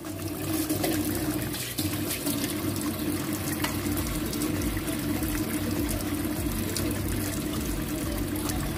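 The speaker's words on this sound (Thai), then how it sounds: "หลังจากนั้นเราก็ทำการเปิดน้ำลงไปเลยครับ" Tap water runs steadily into a kitchen sink drain just cleared of grease and food clogs, a continuous close gushing and splashing with no talk.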